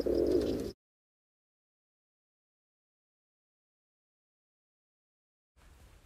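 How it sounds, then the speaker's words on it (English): Pigeons coo indoors inside a house in one short, fairly loud burst at the very start, followed by a long silence and a faint rustle at the end. "get these bloody pigeons out of my house"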